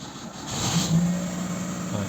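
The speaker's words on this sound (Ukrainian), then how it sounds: "Машина запустилась" A Chevrolet Aveo engine with a faulty, non-charging alternator turns over and catches, settling into a low, steady idle, fairly quiet and close.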